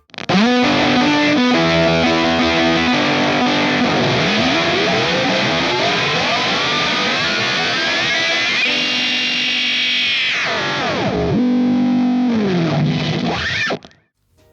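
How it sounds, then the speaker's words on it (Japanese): Electric guitar through an Outer Rings ring modulator pedal, giving a loud, distorted, chaotic metallic tone with sweeping pitch bends and dense clangorous overtones, sustained for about fourteen seconds before cutting off. "これはリングモジュレーターですね。"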